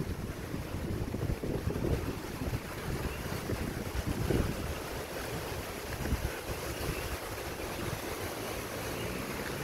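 Strong wind buffets the microphone at Richardson Beach at night in Hilo, Hawaii, a constant loud roar with gusty rumbling and surf noise underneath, with no voices.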